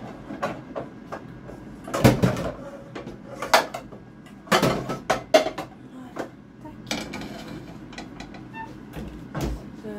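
A small frying pan is set down and handled among other kitchenware, giving sharp metallic clanks and clatters in irregular bursts with several louder knocks, close by and without talk.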